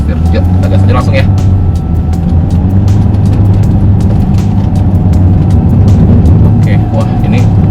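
A Toyota Veloz Hybrid accelerates through a zigzag course at about 40 km/h, a steady loud road and engine rumble heard from inside the cabin with faint talk over it.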